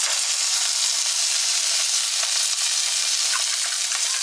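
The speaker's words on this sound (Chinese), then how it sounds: "把底部煎成这样金黄，我们就可以加淀粉水了。" Potstickers fry in a pan, their bottoms browning golden in a home kitchen, with a steady, close sizzle and crackle running throughout and no one speaking.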